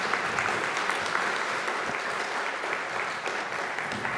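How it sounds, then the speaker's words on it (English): Audience members at a statewide Democratic candidates forum applaud as a mayor and state representative are introduced, producing a soft, steady patter of clapping heard from a distance without voices. "You guys can applaud, it's fine."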